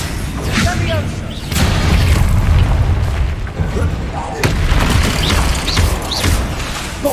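Repeated spell blasts and booming explosions from combat in the video game Hogwarts Legacy, loud and overlapping in quick bursts, with a player calling out spell names over the din.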